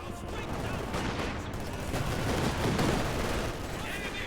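Rapid, dense flak fire from a base anti-aircraft battery in a World War II strategy game, a steady crackling burst of shots running continuously for several seconds with no pauses.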